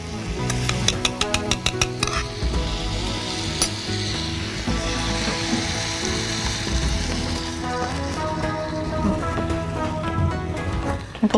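A Chettinad chicken gravy simmers in a pan after water is added, giving a steady, close, loud sizzle and bubbling hiss that lasts throughout with no voice over it.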